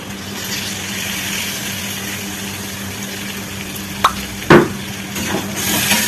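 Ground spice paste with turmeric hitting hot oil in a pan of potatoes and onions, a steady broadband sizzle with a few sharp clatters of stirring near the end, no talking.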